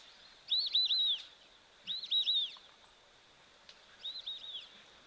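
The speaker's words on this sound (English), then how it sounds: "isn't that just one of the most awesome sounds in the world? It's probably one of my favorite bird calls." A bird at an African waterhole gives three whistled, warbling phrases, each about half a second long, spaced a little over a second apart, the last one fainter, over a soft steady background hum with no talking.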